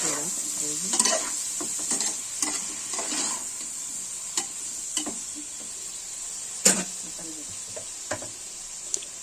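Fish frying in oil with salt is stirred in a pan, a bright constant sizzle broken by repeated scraping and clinking strokes of the spoon, close and clear, with no speech.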